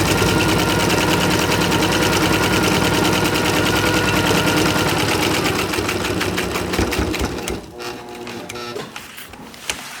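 A sewing machine with worn-out motor brushes stitches sailboat lazy-bag material, giving a loud, steady, rapid mechanical clatter that runs continuously, then falters and thins out near the end.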